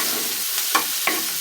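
Jackfruit seeds fry in a pan, giving a constant loud close sizzle with two quick stirring scrapes and no talking.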